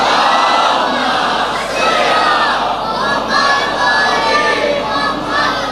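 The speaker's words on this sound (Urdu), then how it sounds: "ایک اتنی بلند صلوات اور۔" A large crowd at a religious gathering loudly chants salawat in unison, a dense, sustained roar of many voices filling the space without pause.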